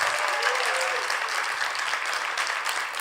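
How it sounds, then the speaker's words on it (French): An audience at a comedy festival event breaks into sustained applause, many hands clapping steadily at moderate volume with no pause. "Bonne main d'applaudissements"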